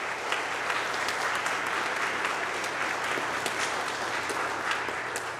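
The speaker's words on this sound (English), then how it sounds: "So let's give them a big round of applause." A church congregation at Good Hope Lutheran in Bucyrus, Ohio, claps in a steady, even round of applause. The clapping is dense and fills the whole stretch at moderate loudness, with no talking over it.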